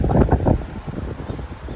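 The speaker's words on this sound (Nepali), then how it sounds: "कस्तो हावा चल्दैछ" Strong wind blows outdoors ahead of rain, buffeting the microphone in loud, uneven gusts that are heaviest at the start and then settle into a rough, steady rush.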